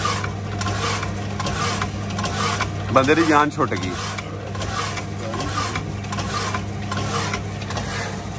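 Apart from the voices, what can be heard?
iron-cutting saw machine running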